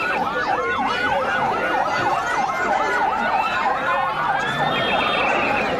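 Several ambulance sirens wail continuously at once, overlapping rising and falling tones amid steady loud traffic noise, at the scene of a bomb blast in Islamabad, Pakistan.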